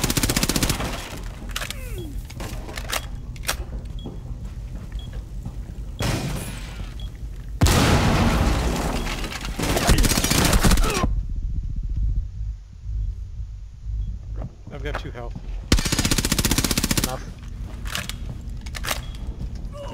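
Gunfire in the shooter game Rainbow Six Siege, in loud bursts and single sharp shots separated by quieter stretches, with faint voices now and then.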